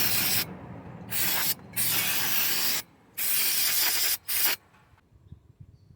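Several hissing bursts of aerosol spray on a seized Nissan Pathfinder front brake caliper, each about a second long with short gaps between them, close up, then quiet.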